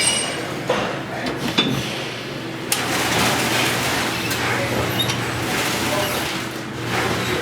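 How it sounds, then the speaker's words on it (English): Two 13mm wrenches work loose the top strut bolt on a Can-Am Commander, giving sparse metallic clinks and clicks over a steady mechanical background at close range. "You can use two 13mm wrenches to do this."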